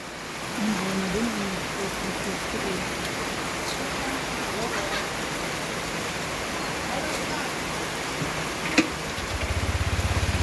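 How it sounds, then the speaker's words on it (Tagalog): Heavy rain falls as a steady, dense hiss throughout, with a brief sharp knock near the end; a faint voice is heard early. "Ulan pala dito, malala."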